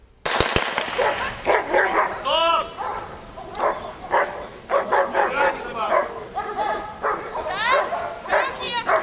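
German shepherd dogs bark and yip repeatedly and loudly at close range at a service dog competition, sharp bursts coming in quick irregular volleys throughout.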